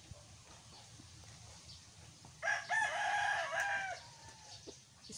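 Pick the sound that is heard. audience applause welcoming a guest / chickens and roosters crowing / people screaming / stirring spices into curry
chickens and roosters crowing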